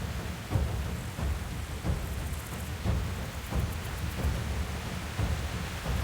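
Heavy thunderstorm rain in the medieval game Kingdom Come: Deliverance, a dense steady downpour hissing continuously with periodic low rumbling thumps of thunder beneath it, loud and enveloping throughout.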